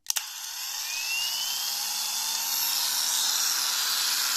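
Procraft PW-2200 brushless 125 mm, 1100 W angle grinder clicked on and left running unloaded, with a sharp switch click followed by a loud, steady high-pitched whine that settles to full speed.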